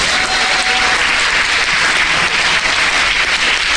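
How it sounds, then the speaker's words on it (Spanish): A church congregation breaks into loud, sustained applause during a sermon, a thick continuous roar of clapping from many hands filling the room. "Un aplauso al Señor."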